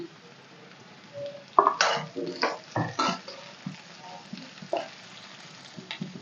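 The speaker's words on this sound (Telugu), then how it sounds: "ఫ్రెండ్స్ క్యారెట్ ఫ్రై అయిపోయిన తర్వాత క్యాబేజీ, క్యాప్సికమ్ అండి, ఇవి 2 కూడా వేసేస్తున్నాను." Cabbage and capsicum tossed into a pan with carrot that is already frying, giving irregular sizzling bursts and clattering stirs against the pan. There is no talk.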